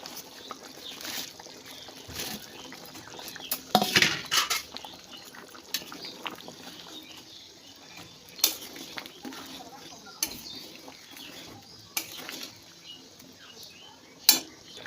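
Dhoka lentil cakes dropped into hot curry in a pan, with soft clinks and light spoon scrapes at scattered moments over a quiet kitchen background, and a voice talking faintly.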